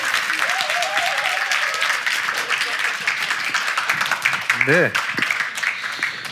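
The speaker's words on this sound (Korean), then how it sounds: "생각보다는 박수가 적은데요." Audience applause at a Korean talk event fills the whole clip as steady, dense clapping, while a voice speaks briefly over it.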